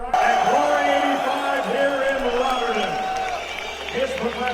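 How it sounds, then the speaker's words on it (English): Loud crowd cheering and chanting fills a Glory kickboxing Grand Prix arena in the Netherlands as fans back a Turkish fighter, a dense roar with rising and falling shouts throughout. "you could hear the crowd go crazy"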